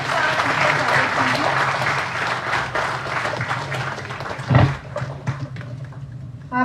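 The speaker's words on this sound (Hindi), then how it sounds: "जोरदार तालियां इसके लिए।" A school audience at an inter-school storytelling competition claps loudly and steadily for a performer, the ovation tapering after a dull thump midway into scattered claps.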